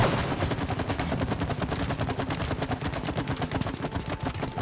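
A goo gun in the co-op game It Takes Two fires continuously, giving a rapid, even stream of loud splattering shots close up that barely pauses, with no talking over it.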